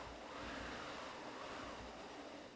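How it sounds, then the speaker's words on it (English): A foley wind machine, a rotating drum covered in calico cloth, gives a soft, steady whooshing rush with gentle swells as it turns, a faint, continuous breath of wind with no voices over it. "So as we rotate, you can hear the sound of the wind on the sweeping plains."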